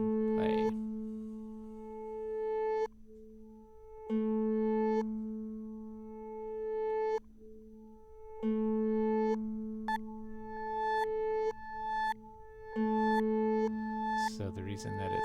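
A single guitar note, captured live and played back at double speed, rings out as bright, higher-pitched sustained tones that repeat and layer in overlapping phrases, with short gaps and clicks between them.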